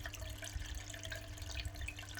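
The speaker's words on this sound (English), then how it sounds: "this is my fish tank, my other fish tank that I am going to get some water out" Water is scooped out of a home fish tank: quiet sloshing and dripping with small splashes over a faint steady hum, no voices.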